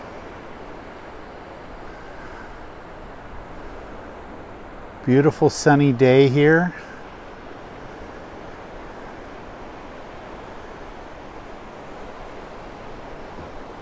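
Continuous broad roar of ocean surf breaking at Capitola beach on a sunny day, steady and wind-tinged throughout, with someone speaking briefly midway over the waves.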